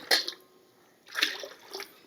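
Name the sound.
water being poured onto soaking semolina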